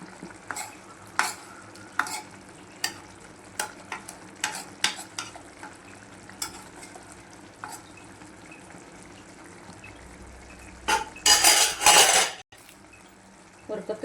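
Dried fish fries in a pan for karuvadu thokku, with scattered spoon clanks against the pan and a sudden loud burst of sizzling near the end.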